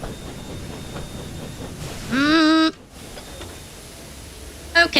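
Engines running in the Thomas and Friends: Wonders of Sodor video game, with a low rolling rumble, a loud half-second whistle blast midway and a short hiss near the end.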